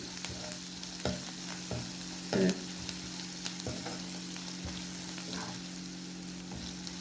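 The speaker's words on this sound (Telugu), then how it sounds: "ఉల్లిపాయలు కొంచెం వేగిపోతాయి, చూడండి వేగుతున్నాయి" Onions fry in a pan for masala khichdi, a continuous close sizzle broken by repeated scraping knocks as a spoon stirs them, moderately loud and free of speech.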